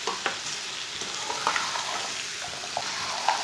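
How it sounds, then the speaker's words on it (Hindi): Okra being stir-fried in a pan, a steady soft sizzle with occasional faint clicks of a spoon stirring, close and alone without talk. "अच्छी तरह मिक्स करके इसे 3-4 मिनट के लिए ऐसे ही भून लेंगे"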